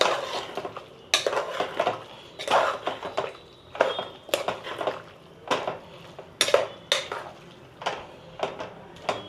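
Metal spoon scraping and clinking against a pot as mutton curry is stirred, a run of sharp, repeated clattering strokes in uneven rhythm, close and moderately loud over a faint simmering bubble.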